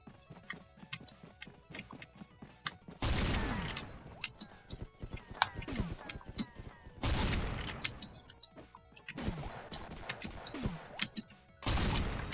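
Powerful one-hit gun firing in a Roblox ragdoll game, heard as several loud broadband bursts spaced a few seconds apart over a busy game soundtrack of clatter and clops.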